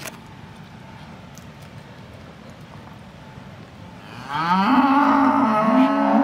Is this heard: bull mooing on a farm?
yes